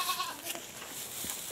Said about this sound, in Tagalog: Ang kambing natin.